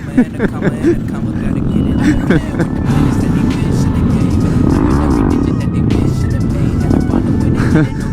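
A motorcycle ridden in fourth gear, with a steady, loud engine drone holding an even pitch, while people talk over it.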